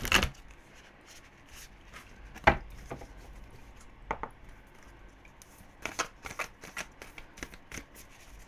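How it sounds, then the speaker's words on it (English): A large tarot card deck being shuffled in repeated bursts of riffling and slapping, close and fairly quiet, with short pauses between shuffles. "It's such an awkward deck to shuffle."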